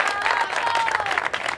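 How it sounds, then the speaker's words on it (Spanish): An audience at a nautical awards ceremony claps steadily in a dense round of applause, with a voice briefly audible over it. "Un aplauso, por"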